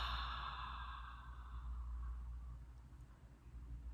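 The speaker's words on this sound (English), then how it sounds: "Deep exhale." A slow, deep exhale of breath during a guided relaxation exercise, a soft airy sigh that fades gradually over several seconds, heard close and alone.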